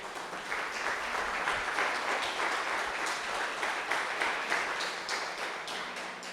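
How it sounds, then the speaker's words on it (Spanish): Loud, sustained applause from a church congregation, steady clapping filling the whole stretch without letting up. "Yo quiero que le demos un fuerte aplauso al Señor en esta mañana."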